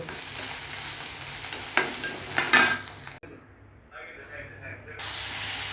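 Ginger, garlic and spices fry in a pan for misal, a close sizzling hiss with utensil clatter and a burst of spattering, then an abrupt drop to a quieter sizzle as talk is heard.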